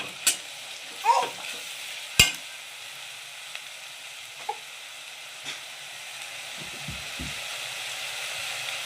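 Tomatoes stirred and frying in a pan for egg pulao, with faint scraping stirs and a few sharp utensil clinks over a low, steady sizzle in a quiet kitchen.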